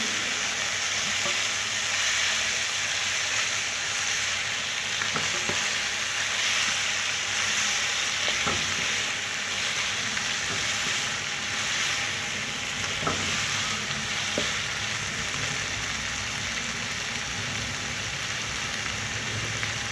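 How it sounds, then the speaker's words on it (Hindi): Chicken, vegetable and macaroni mixture sizzles steadily in a pan while being stirred, a continuous close frying hiss with faint scraping strokes throughout and no talk. "इसको अच्छे तरीके से मिक्स कर देते हैं।"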